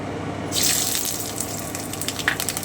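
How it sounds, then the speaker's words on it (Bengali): Dried red chillies and black mustard seeds drop into hot oil for sambar dal, bursting into a loud hissing sizzle that continues with small crackles and pops close by. "এবারে আমি শুকনো লঙ্কা আর সর্ষেটা দিয়ে দিচ্ছি কালো সর্ষে"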